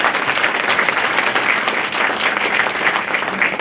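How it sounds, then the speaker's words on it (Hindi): An audience at a Bar Council of Delhi enrolment meeting claps loudly and steadily throughout, a dense, even wash of applause close by with no voices over it. "इसके लिए जोरदार तालियों से"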